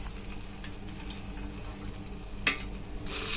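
Cumin and mustard seeds sizzle quietly in hot ghee, a soft steady frying hiss with a brief sharp clink partway through and a brighter crackle near the end.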